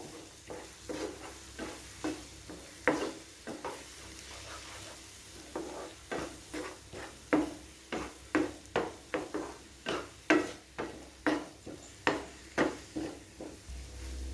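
A spoon stirring eggs into a frying bread mixture in a pan, with repeated sharp scraping strokes in a steady rhythm over a soft sizzle and no talking.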